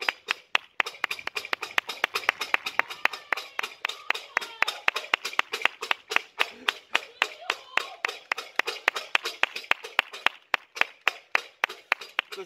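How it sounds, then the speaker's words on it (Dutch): Neighbours applaud together at noon in support of care workers, a long steady run of sharp hand claps from several people at a moderate distance, continuing without pause throughout. "het is 12 uur blijkbaar, dus we gaan eens even applaudisseren"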